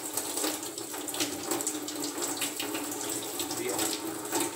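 Water running from a tap during cleaning of an aquarium canister filter, a steady splashing rush into a sink with faint handling sounds, close and continuous.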